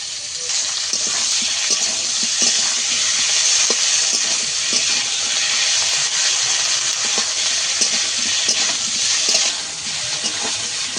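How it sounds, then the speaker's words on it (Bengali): Ginger garlic paste fries in a pan with a loud, steady, hissing sizzle that runs the whole time, broken by faint clicks of stirring. "আদা রসুন বাটা আমি কিছুক্ষণ ভেজে নিয়েছি।"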